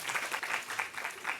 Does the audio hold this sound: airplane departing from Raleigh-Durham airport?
no